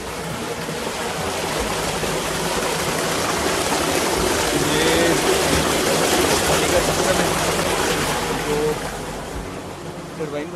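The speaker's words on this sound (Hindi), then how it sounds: "ये पानी साथ साथ बह रहा है" A mountain stream runs alongside a hiking trail on the way from Tatu Village toward Fairy Meadows, giving a steady broadband rush of flowing water that stays loud and close throughout, with faint talk underneath.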